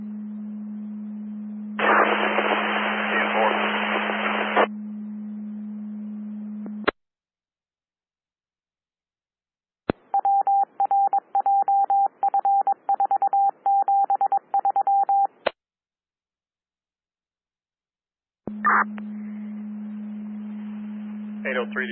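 Radio tone signalling from a Levelland Skywarn storm-spotter net: a steady low hum with a bright noisy tone burst, then a rapid train of short beeping pulses, then the hum again, all loud and close with no talking.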